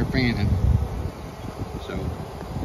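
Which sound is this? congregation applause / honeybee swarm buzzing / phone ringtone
honeybee swarm buzzing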